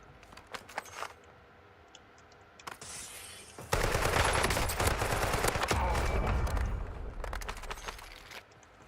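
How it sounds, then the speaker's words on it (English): SMG gunfire in Warzone: a few scattered shots at first, then a loud sustained automatic burst lasting several seconds, followed by sporadic trailing shots. "Man, that is like the worst SMG in the world."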